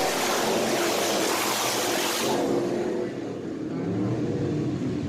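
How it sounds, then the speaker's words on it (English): A race car pulls away at a green-flag restart coming off turn 4 of an oval, a loud sustained engine roar with broad wind-like noise that fades slightly as the car moves off. "green flag in the air. Mike Lane hits the gas."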